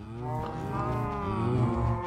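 Cows mooing in the Minecraft video game, a couple of drawn-out lowing calls close by and fairly loud, with no talk over them.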